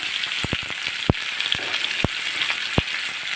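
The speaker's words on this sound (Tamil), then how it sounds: "வெங்காயம் நல்லா வதங்கட்டும்" Onions sizzle steadily in a hot pan with curry leaves, with sharp clicks from a utensil scraping and stirring now and then.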